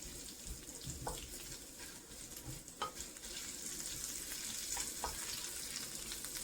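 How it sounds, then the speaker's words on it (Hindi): Ingredients for a lamb soup are roasted in a pot, with a faint steady sizzle and occasional scraping stirs of a spoon, the frying hiss building slightly toward the end. "आप इन सब चीज़ों को अच्छी तरह से इसमें भून लें, लेकिन कोशिश कीजिएगा कि ये जले नहीं।"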